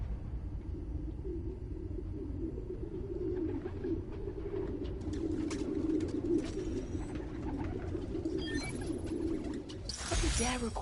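Pigeons coo in a city park in the Spider-Man: Miles Morales game, a steady low warbling murmur of several birds throughout, with scattered clicks and a brief bright rustle near the end.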